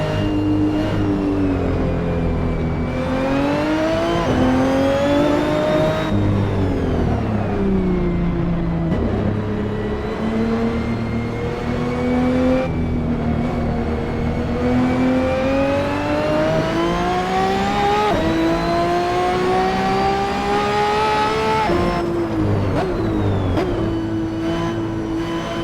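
Ferrari 599XX Evo engine in the Assetto Corsa racing game, revving loudly and steadily, pitch climbing and dropping through repeated gear changes over a long continuous run.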